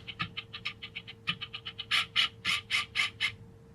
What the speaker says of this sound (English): That's the camera trying to focus.